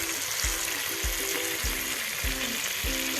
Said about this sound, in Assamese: তাৰপিছত আমি আলুখিনি যেতিয়ালৈকে ধুনীয়া কালাৰ নহয় তেতিয়ালৈকে ভাজি ল'ম।